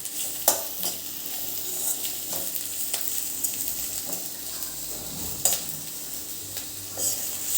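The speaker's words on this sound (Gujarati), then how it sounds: "કોબીજ અને આને પણ આપણે થોડા શેકી લઈશું।" Cabbage and other vegetables sizzle as they are stir-fried in a pan, with a steady frying hiss broken by repeated sharp scrapes and clinks of a spoon against the pan.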